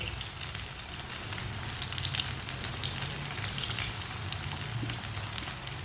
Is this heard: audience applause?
no